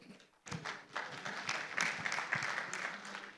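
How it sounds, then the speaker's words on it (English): Audience applause at an agriculture and agro-processing session of a Bangladesh investment event, a steady wash of clapping that starts abruptly and holds at moderate loudness without a break. "I will request all of you to applaud their contribution to the development."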